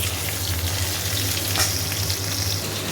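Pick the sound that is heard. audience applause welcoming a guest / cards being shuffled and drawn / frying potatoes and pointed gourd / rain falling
frying potatoes and pointed gourd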